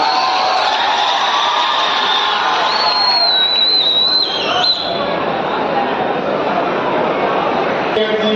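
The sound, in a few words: audience applause and cheering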